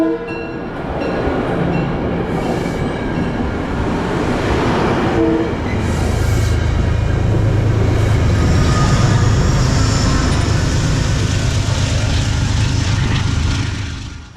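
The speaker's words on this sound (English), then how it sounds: "the New York Central Heritage Unit number 211 shoves train 1861 over the New Canaan Avenue crossing" New York Central heritage locomotive 211 shoving freight train 1861 over a road crossing, a loud, close, sustained diesel rumble with rail noise building as it passes, and a horn sounding early on.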